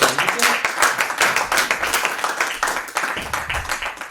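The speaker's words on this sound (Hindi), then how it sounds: "जोरदार तालियों के साथ" An audience at a Hindi comedy poetry gathering breaks into loud, sustained applause for a poet, a dense continuous crowd of clapping that lasts throughout.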